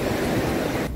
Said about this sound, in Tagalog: Tama, malakas yung alon doon, ha.